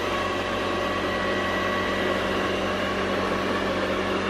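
A robot vacuum cleaner's motor runs with a steady, airy whir and hiss, constant and unbroken from start to finish.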